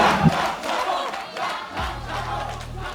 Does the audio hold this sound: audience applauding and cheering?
yes